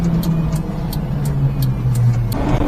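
A mini-truck engine fitted with an AMR300 supercharger idles steadily nearby, a continuous low hum overlaid with faint regular ticking, with a slight rise in pitch toward the end.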